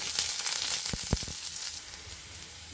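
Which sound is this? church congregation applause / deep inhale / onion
onion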